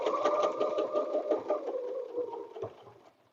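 Close, fairly quiet, a sewing machine stitches a quilted butterfly bed runner in a steady, rapid mechanical hum with fine rhythmic ticking that slows and fades out after about three seconds.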